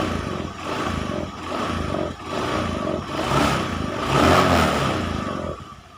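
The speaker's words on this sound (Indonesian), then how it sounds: "Dan sekarang saya mencoba untuk mengegas motor ini." A motorcycle engine revved repeatedly at close range, rising and falling roars with a rattling, clattering idle between throttle blips over about six seconds.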